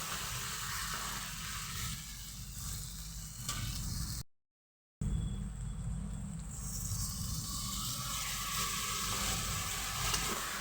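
Onions with salt sizzle in a frying pan while being stirred, a steady close hiss of frying broken by a brief dropout in the middle, then a continued sizzle with no talking.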